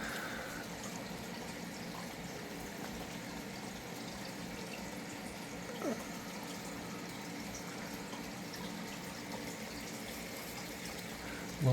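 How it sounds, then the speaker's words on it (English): Creek water rushes and gurgles steadily around a net dipped into the stream, a continuous, even wash of flowing water with no voices. "what I'm doing by sticking this in the creek is simply picking up food"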